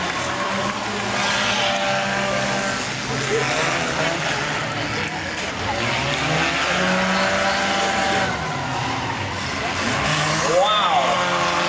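Demolition derby cars at a large exhibition arena racing with engines roaring and whining, pitches sweeping up and down as they pass, with crowd noise and an announcer talking over the action throughout.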